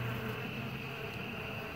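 Agitated honey bees buzz around an open hive in a steady, dense drone that holds close and fairly quiet throughout, with no talking.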